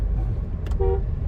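A single short car horn honk sounds over a steady low rumble of road and engine noise.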